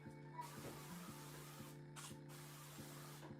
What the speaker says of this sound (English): I'm gonna spray some avocado oil on the pan.